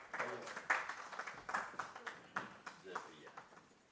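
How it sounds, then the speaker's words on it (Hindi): Audience at a Hindi poetry recital (kavi sammelan) applauding to welcome poet Om Nishchal: scattered, moderately dense clapping at a distance, fairly quiet and uneven, with some voices mixed in. "तालियां बजाएं, स्वागत करें ओम निश्चल जी का उनकी कविताओं के साथ"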